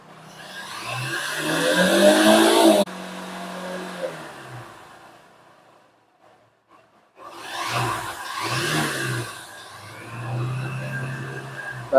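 A motorbike engine is revved to warm it up: two loud bursts of rising revs, near and strong, separated by several seconds of near silence as it drops back to idle.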